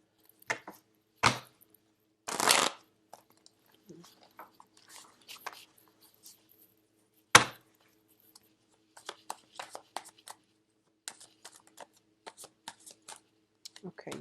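Tarot cards shuffled and dealt in several short papery bursts, with a long riffle early on and scattered soft card flicks and taps later, close and fairly quiet in a still room.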